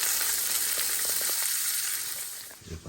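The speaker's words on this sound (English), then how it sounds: "We'll go ahead and throw these on while the onions are caramelizing." Poblano peppers and onions frying in lard in a pan give a steady, close, bright sizzle that holds evenly, then eases slightly near the end with a small clatter.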